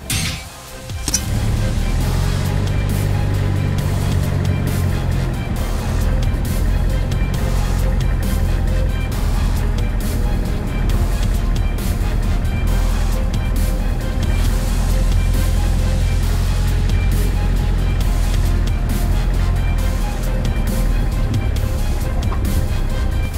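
A homemade two-storey car, one vehicle mounted on top of another with an engine overhead, rumbles along slowly with a steady, loud low-pitched engine drone and road noise throughout.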